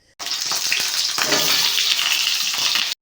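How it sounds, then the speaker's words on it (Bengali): Pointed gourd (potol) frying in hot oil in a wok, a loud bright sizzle that starts abruptly, crackles steadily with some spatter and stirring, then cuts off. "এবার ওই তেলের মধ্যে পটলগুলোকে ভালো করে ভাজতে হবে।"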